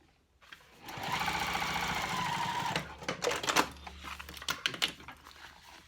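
Close sewing machine topstitching a cork clutch wallet, one steady run of about two seconds followed by softer clicks and handling noises.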